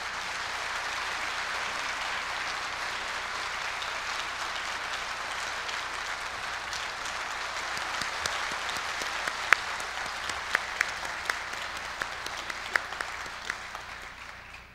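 Audience applause at a university president's inauguration ceremony at Korea University, a broad, steady wash of clapping lasting about fifteen seconds, with a few sharper claps standing out near the end as it fades slightly.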